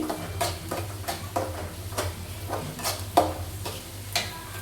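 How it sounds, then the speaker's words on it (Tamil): Onions or masala being sautéed in a pan over medium flame for quick plain biryani, with a steady low sizzle and repeated scraping stirs of a spoon at an even rhythm, close up and alone. "இந்த மாதிரி வதக்கிட்டே இருங்க. ஃப்ளேமை மீடியமாக வச்சு"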